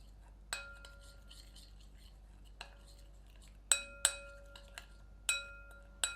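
A spoon clinks against a bowl while chicken tikka marinade of red chili powder and mustard oil is mixed, with a few sharp, ringing taps spaced irregularly over a quiet background.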